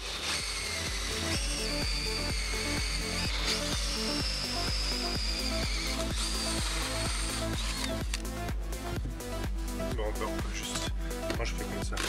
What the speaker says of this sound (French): On l'a tenté à la scie cloche,